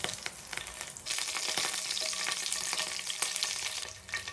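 Onion stalks and onion flowers sautéing with mustard seeds in hot oil, a loud, continuous crackling sizzle up close with occasional stirring scrapes.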